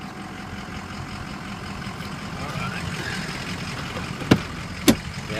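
A 2004 Ford F250 4x4 with the 6.0 diesel engine running, a steady low rumble and clatter near at hand, with two sharp knocks late on.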